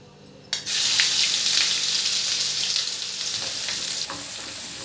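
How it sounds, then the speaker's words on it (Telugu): Ginger garlic paste dropped into hot oil, bursting into a loud, sudden sizzle that crackles steadily and eases slightly as it keeps frying, alone with no voices. "అల్లం వెల్లుల్లి పేస్ట్ పచ్చివాసన పోయే వరకు వేయించుకోవాలండి"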